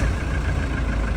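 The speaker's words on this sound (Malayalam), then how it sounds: "ഞാൻ ഫൈനലി ഒന്ന് വണ്ടി ആദ്യം സ്റ്റാർട്ട് ആക്കട്ടെ." A vehicle engine idles steadily after starting, a loud low continuous rumble close by with no speech.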